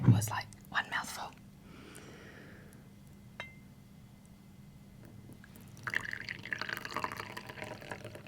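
Tea is poured into a cup at an ASMR tea party, with a gentle liquid trickle that starts and stops in short runs. Whispering comes before and around it.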